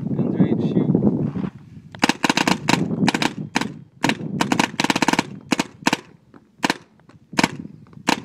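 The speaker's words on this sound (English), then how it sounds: "Okay, gun's ready to shoot." Alien Invasion paintball marker from 2012 firing in rapid bursts and strings of sharp, loud pops with short gaps, after a stretch of talk at the start.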